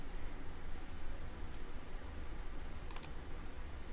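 A Windows computer mouse gives a quick double click, sharp and close, after a few seconds of steady background hiss.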